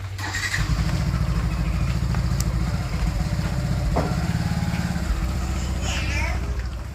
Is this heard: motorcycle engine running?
yes